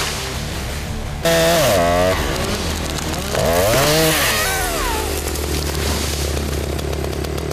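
A chainsaw cuts the base of a large tree on a Korean logging site, loud and close, its engine revving up and down in repeated surges over an idling drone while a voice talks over it.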